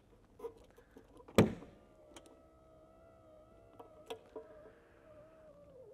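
The electric trunk release of a 1989 Pontiac Firebird Formula coupe gives a sharp click, then a soft motor whine hums faintly for several seconds with small knocks around it in a quiet setting.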